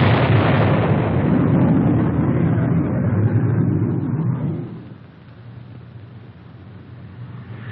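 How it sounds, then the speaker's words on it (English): General purpose bombs dropped by aircraft in an air strike on tanks burst in a heavy, roaring explosion that rumbles loudly for several seconds before fading into a lower lingering rumble. "Once they are spotted, the first flight drops general purpose bombs."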